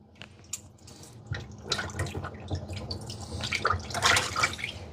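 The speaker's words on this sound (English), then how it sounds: "And then I'm just going to rinse that real good." Water runs from a kitchen sink tap to rinse out the sink, with a steady splashing flow and scattered drips and clatters that build louder toward the end.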